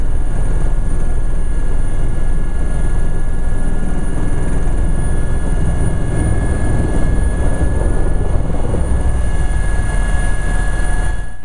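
Loud, constant roaring engine noise with a steady whine from a helicopter giving rides over the 24 Hours of Le Mans racetrack, close by, unbroken throughout.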